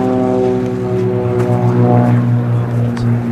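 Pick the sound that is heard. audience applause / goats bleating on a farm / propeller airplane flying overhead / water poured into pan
propeller airplane flying overhead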